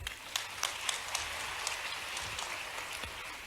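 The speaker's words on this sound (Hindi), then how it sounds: "जोरदार तालियां" At a Ladli Laxmi Yojana 2.0 government event with Chief Minister Shivraj Singh Chouhan, a crowd claps in a faint, somewhat distant patter with scattered sharper claps standing out, and no speech.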